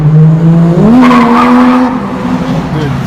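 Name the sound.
car drifting past with tire squeal at Daikoku parking area, Tokyo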